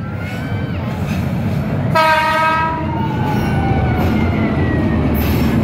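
The KAIS 3 railway inspection train rumbles past close by on the Cibatu–Garut line and sounds a long, loud horn blast midway, with steady rolling noise throughout.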